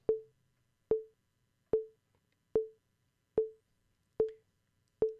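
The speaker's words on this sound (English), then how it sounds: "use my digital metronome that sounds less annoying to me" Seven evenly spaced electronic beeps from a digital metronome, each a short clean tone with a quick decay, ticking steadily at roughly 75 beats per minute in a quiet room with no one speaking.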